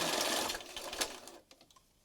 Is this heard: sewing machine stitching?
yes